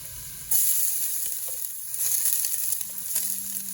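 Onion hitting hot oil for lugaw, a sudden loud sizzle that bursts in and then keeps crackling steadily up close, with a few clinks of utensils and no talk.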